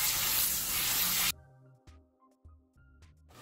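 A brief, loud hiss of water spray rinses something for just over a second, then cuts off abruptly, leaving quiet room tones and faint knocks.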